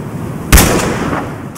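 A single loud, close gunshot cracks out during Battlefield Hardline gameplay, a sharp burst followed by a rumbling tail that lingers under steady background noise.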